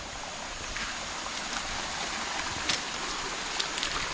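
Water flows steadily at a house construction site in upcountry Ratnapura, a continuous close rushing wash with a few faint splashes and no speech.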